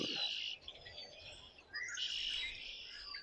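Songbirds chirp outdoors in the wild, bright high twittering calls in two bursts with a brief lull between, fairly faint and distant against quiet surroundings.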